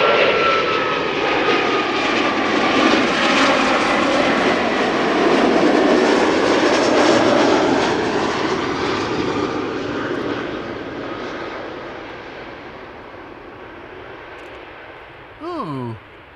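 A KLM airliner arriving from Leeds at Amsterdam Schiphol roars past loudly, the broad jet rumble peaking then slowly fading away, with people talking nearby.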